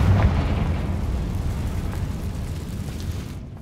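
A Confringo blasting spell explodes in the video game Hogwarts Legacy, giving a loud, deep boom that rumbles on and slowly fades over several seconds, with no voices.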